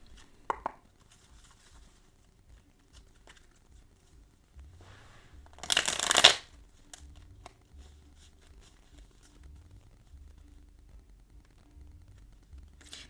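Tarot cards are shuffled in a single brisk burst of riffling and slapping, with a few faint card taps and handling noises before and after in an otherwise quiet room.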